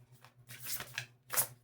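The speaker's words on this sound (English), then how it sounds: "split the deck, and start to shuffle" A deck of tarot cards being split and shuffled, heard as soft papery riffling bursts in two or three quick flurries, close and fairly quiet with brief pauses between.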